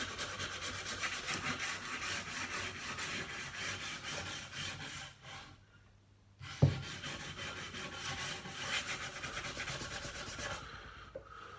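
Wet sanding of a wooden sign, a steady rubbing rasp that runs continuously, pauses briefly near the middle after a sharp knock, then resumes at the same close, even level.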